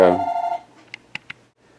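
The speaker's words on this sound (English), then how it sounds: "Neglected to turn off the ringer when I started the camera here" A telephone ringer in a guitar repair workshop rings out in a loud, close burst that cuts off, leaving three short, faint taps afterward.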